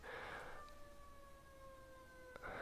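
Ambulance and police car sirens sound right outside a door as faint, distant, steady wailing tones that slowly drift lower, with no talk.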